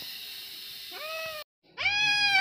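A hungry black cat meows at close range, one drawn-out cry followed after a short gap by a louder, longer meow, over a steady faint background hiss.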